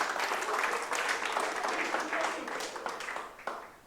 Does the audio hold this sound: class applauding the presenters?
yes